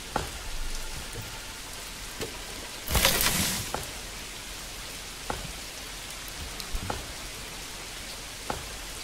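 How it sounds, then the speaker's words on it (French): Steady rain hissing down in the Manor Lords medieval village, a broad even patter with scattered louder drops and one brief heavier gust of spray, no voices. "Ah oui, il pleut"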